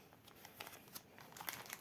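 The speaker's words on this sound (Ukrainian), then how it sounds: "Я її кладу в зип-пакет." A coin sealed in a plastic capsule is slipped into a plastic zip bag, making faint, close, irregular crinkles and rustles of thin plastic.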